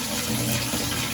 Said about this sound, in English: Let's turn that water back on.